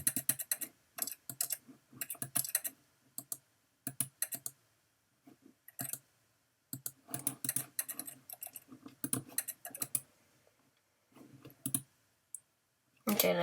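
A computer mouse clicks rapidly during a video game, in dense irregular clusters of sharp close clicks broken by brief pauses.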